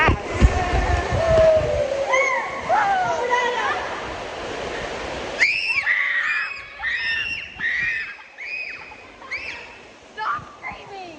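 Water ride at Great Wolf Lodge with riders screaming, several high shrieks and squeals rising over a noisy indoor crowd, then more scattered screams and chatter in the echoing hall.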